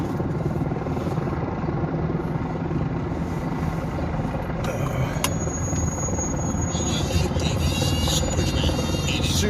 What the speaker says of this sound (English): What's up, dude, with the choppers, man?